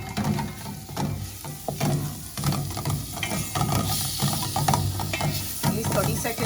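A spoon stirs spices into onions frying in oil in a pan for egg curry, with a steady close sizzle and repeated scraping and clacking strokes throughout, and no voice.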